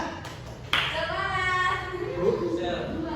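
A classroom group of students performs the 'tepuk semangat' clap chant: one sharp clap, then voices chanting together with soft claps underneath, close by.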